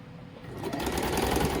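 A sewing machine stitches a folded suit sleeve, running as a close, steady mechanical whir with a fast stitching rhythm throughout.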